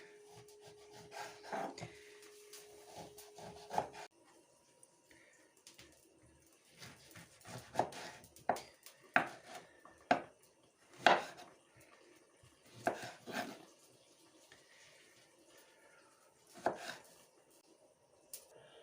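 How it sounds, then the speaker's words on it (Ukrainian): A knife chops lemon and orange into cubes on a cutting board, irregular thuds and slicing strokes with pauses between, close up and fairly quiet. "тепер я поріжу лимон і апельсинку. Десь кубиками"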